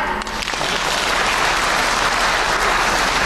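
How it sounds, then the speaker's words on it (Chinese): A live audience at a 2003 stage comedy show bursts into steady, dense applause that fills the room for a few seconds, with no voices over it. "谢谢大家送来这么多热情的掌声啊"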